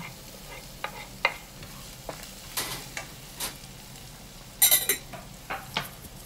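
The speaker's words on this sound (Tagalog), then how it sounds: "ginigisa ko na po ang aking sibuyas, bawang at saka sili" Onion, garlic and chili are sautéed in a pan for ground pork curry, with a soft steady sizzle under repeated sharp clinks and scrapes of a utensil stirring against the pan, close up with no talking.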